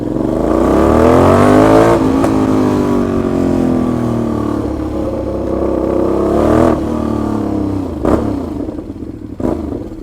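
A motorcycle fitted with an extremely loud exhaust revs hard, its engine climbing and dropping in long, throaty bursts, with sharp blips near the end, close and dominating throughout.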